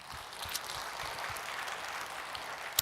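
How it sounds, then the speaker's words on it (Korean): Church congregation applauding together in thanks to God during a sermon, a steady wash of many hands clapping at moderate level from start to finish. "하나님께 감사 박수"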